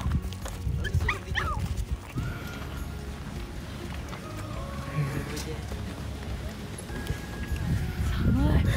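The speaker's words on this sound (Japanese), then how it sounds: "ホテル内のドッグランで、こっちはちっこいワンコで、あっちは大型犬" Small and large dogs at a hotel dog run, with barks and scuffling under a noisy outdoor background, and people talking nearby throughout.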